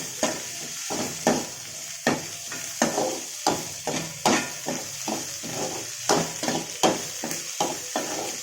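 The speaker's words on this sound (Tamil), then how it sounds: "வெங்காயமும் கருவாடும் நல்லா வதங்கட்டும்" Onions and salai dried fish frying in a pan, a constant hissing sizzle broken by repeated sharp taps and scrapes of a spatula stirring at an irregular pace, close and clear.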